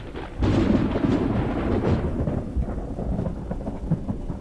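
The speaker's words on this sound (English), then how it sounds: "Thunder clapped and stomped its feet in the sky" A thunderstorm sound effect for a Halloween stage play rolls in with a deep loud rumble of thunder over a continuous wash of heavy rain, lingering for several seconds with no talk.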